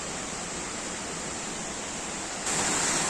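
Rainbow Falls near Cherrapunji in Meghalaya sends up a steady, hissing roar of falling water. The sound is continuous and broadband, and it grows louder suddenly near the end.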